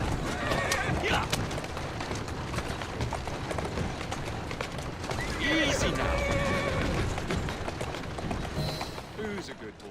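A horse in Assassin's Creed Syndicate whinnies loudly, with clip-clopping hooves and carriage movement under a calm spoken line, followed by another neigh partway through.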